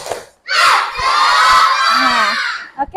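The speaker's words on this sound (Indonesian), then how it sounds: "Tepuk semangat." A class of Indonesian schoolchildren loudly performs the 'tepuk semangat' spirit clap chant in a classroom, a burst of massed young voices shouting together for about two seconds after a short pause.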